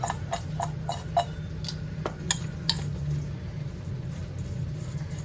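Raw mango pieces are mixed with salt and turmeric in a bowl, with a utensil giving a series of light, irregular clinks and taps over a steady low background hum. No one speaks.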